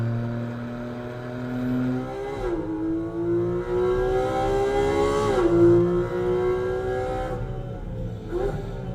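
A Porsche GT4 RS engine revs repeatedly, its pitch climbing in long sweeps and dropping back between pulls, loud and close throughout with a steady droning note underneath.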